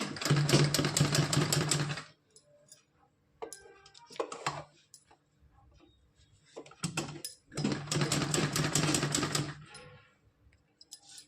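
A sewing machine double-stitches a small heart-design dress for a Kanha ji idol, running in three bursts of fast, rattling stitching, two longer and one brief, with quiet pauses and light handling noises between them.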